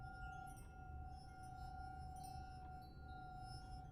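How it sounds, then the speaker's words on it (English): Faint, sparse glassy clinks in the horror game The Suicide of Rachel Foster, set against a steady low hum and quiet ambient tones. No voices. "Like a clinking."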